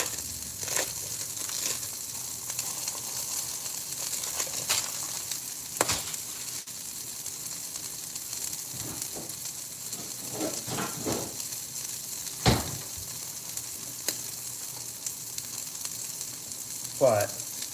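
A burger patty topped with American cheese sizzles steadily on a grill, a constant close hiss of frying with occasional scrapes and crackles and a brief voice near the end.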